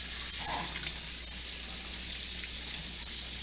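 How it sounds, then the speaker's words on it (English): Cold tap water runs over rice in a small strainer, a continuous even hiss and splash at constant loudness with no voices. "run water on it until the water comes out clean"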